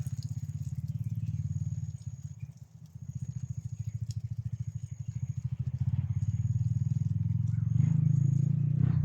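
Motorcycles in a video game rumble steadily in the foreground, a loud low engine drone that dips briefly then swells louder toward the end as they draw nearer, with a faint high tone running through.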